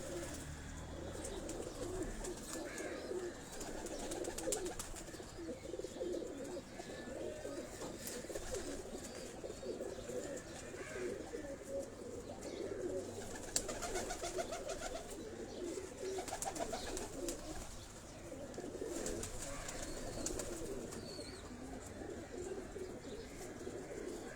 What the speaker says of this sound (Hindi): ये वो जौंसरे कबूतर हैं